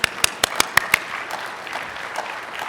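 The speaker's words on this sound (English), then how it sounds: "I kind of feel like we should clap" A handful of sharp, separate claps opens at a conference on talent, then thins into a light, scattered patter of audience applause that fades as the room settles.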